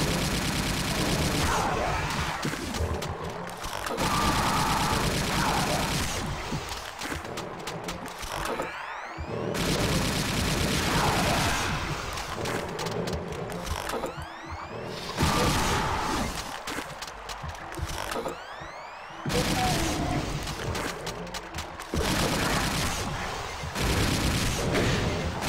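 Plasma gun fire in Brutal Doom comes as long, rapid mechanical bursts of clattering shots, loud and near, broken by short pauses, with grinding gear-like whirs and impacts between volleys.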